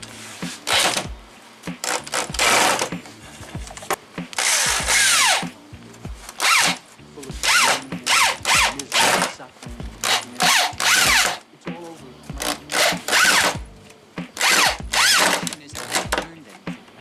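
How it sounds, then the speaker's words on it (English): A power drill drives screws down into wood, a fast series of loud bursts in short whirring runs with brief pauses between them, close by and with no talk over it. "then just screw it down onto the wood"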